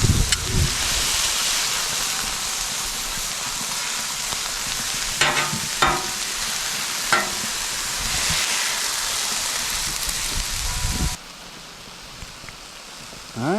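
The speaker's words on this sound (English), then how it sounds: "Venison bacon smash burgers on the griddle." Venison bacon smash burgers cooking on an outdoor griddle give a loud, steady sizzle and crackle, broken by several scraping strokes of a spatula before the frying quiets near the end.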